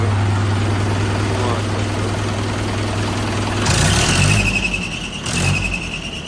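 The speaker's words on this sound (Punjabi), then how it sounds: "ਬੈਲਟ ਦੀ ਆਵਾਜ਼ ਜਿਹੜਾ ਟਰੈਕਟਰ ਕਰਦਾ ਅਲਟਰਨੇਟਰ ਦੀ ਅਲਟਰਨੇਟਰ ਦੀ ਬੈਲਟ ਢਿੱਲੀ ਆ" A Mahindra 575 tractor engine idles with a steady loud drone, then a high whining squeal from a loose, slipping alternator belt rises twice near the end.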